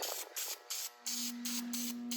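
Rattle-can spray paint hisses in short, close bursts onto a Honda Prelude brake caliper, with about six pulses separated by brief pauses.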